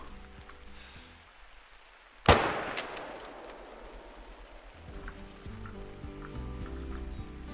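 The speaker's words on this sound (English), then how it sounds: "That was a very nice shot." A single loud rifle shot rings out at a distant buck in the hunting game Call of the Wild, a sharp crack that echoes and fades against a quiet outdoor backdrop.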